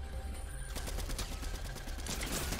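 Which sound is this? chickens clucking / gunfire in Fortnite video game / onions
gunfire in Fortnite video game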